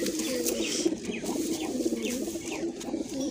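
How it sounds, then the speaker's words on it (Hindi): Aasmani pigeons perched together give a continuous low cooing murmur, several birds overlapping nearby, with a few faint higher chirps and soft wing sounds scattered through it. "एक ये आसमानी कबूतर है भाई"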